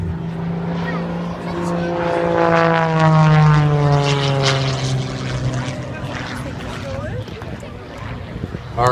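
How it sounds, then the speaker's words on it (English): Propeller engine of an aerobatic airplane at the Great Tennessee Air Show 2014, flown by a professional air show pilot, droning with a rising and falling pitch as it rolls overhead, loud and sustained under a commentator's voice. "Sean D. Tucker still rolling the airplane around."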